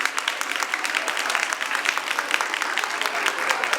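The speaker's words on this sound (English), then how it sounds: "Give a huge round of applause for them" Crowd applause at a science day event, honoring Team 15 among the winners: dense, steady clapping from many hands, fairly close and even throughout.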